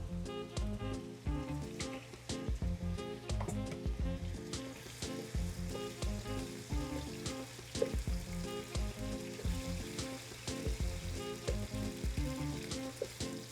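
Pieces of pork fry over high heat for a stew, with a continuous loud crackling sizzle dotted with rapid pops and occasional stirring, heard close up with no voices.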